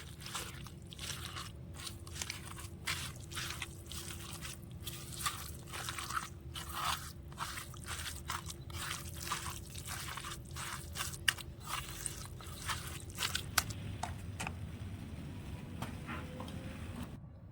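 Hands mash hilsa fish into roasted eggplant with soft garlic cloves, a faint, steady run of squishy, crackly squelches and scrapes with rapid irregular ticks, close and quiet against a low background hum.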